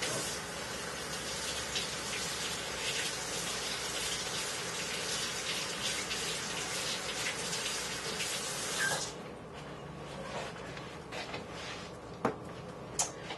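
Makeup brushes rinsed under a running tap, water streaming steadily into a sink for about nine seconds, then shutting off, leaving a few faint drips and small knocks.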